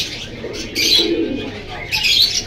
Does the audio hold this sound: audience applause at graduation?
no